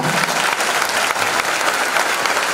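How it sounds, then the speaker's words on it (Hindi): Loud, sustained applause from an audience at a girls' stage play performance, a dense steady clapping that fills the whole stretch without pause. "उनके लिए जोरदार तालियां"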